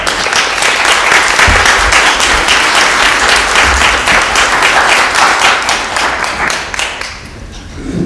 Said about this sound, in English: Please give Kai a round of applause.